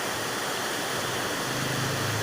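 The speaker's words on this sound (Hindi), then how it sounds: "और ये रामगंगा नदी है" The Ramganga river in Almora district, Uttarakhand, flows in a steady, even rush of water that holds constant and fairly faint throughout, with no voices.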